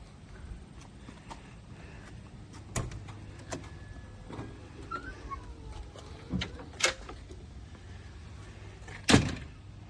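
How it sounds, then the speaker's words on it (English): Access door with screen on a 2015 Winnebago Itasca Ellipse 42QD motorhome worked open and shut: several sharp clicks and knocks of latches and frames, a faint squeak of a hinge, quiet and close with low background hiss. "Access door with the screen."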